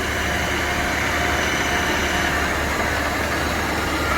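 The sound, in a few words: Victor 1640B lathe running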